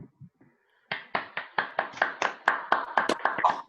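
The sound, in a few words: online audience clapping over video call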